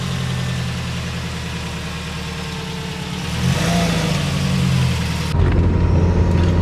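A Subaru WRX with lowering springs idles steadily before a test drive, the engine note rising briefly midway as it revs slightly, loud and close with no talking.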